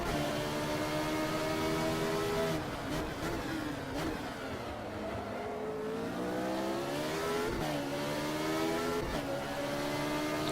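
A 1975 racing car engine in the Automobilista sim at Monaco, heard as a loud, continuous high-revving drone with harmonic pitch sweeps as it shifts up and down through the gears, and no speech.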